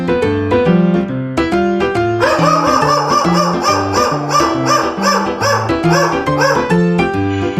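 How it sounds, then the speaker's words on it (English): A dog barks repeatedly in quick bursts over cheerful background music; the barking starts after a short musical intro and keeps going. "It's a dog."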